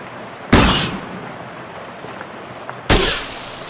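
Two loud, sharp gunshots from the video game Shadows Over Loathing, about two seconds apart, each a sudden blast trailing off into a short decay over a quiet hum.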